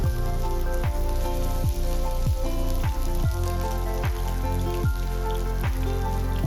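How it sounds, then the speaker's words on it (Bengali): Chicken pieces fry in plenty of oil in a wok with a steady, dense sizzle, while a faint repeating thud or clatter sounds at regular intervals underneath. "চিকেনের টুকরোগুলো আমার ভালো মতো ভাজা হয়ে গেছে"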